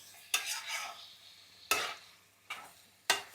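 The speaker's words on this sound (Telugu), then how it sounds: "ఇప్పుడు మనం వీటిని బాగా కలుపుకున్నాం" A spoon scrapes and stirs kabab chicken pepper fry in a hot sizzling pan, making four distinct strokes at an uneven pace, each with a short sizzle, close and clear with no talking.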